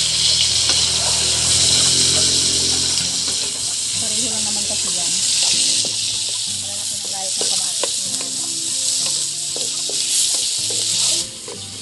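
Onion, garlic and tomato sauté in a little oil, a loud steady sizzling hiss with stirring scrapes, while someone talks over the cooking throughout.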